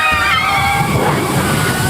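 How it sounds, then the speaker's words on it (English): Water rushing and splashing on the Splash Mountain log flume ride, a loud continuous wash of spray and sloshing that fills the scene with no clear voices. "Here comes the water."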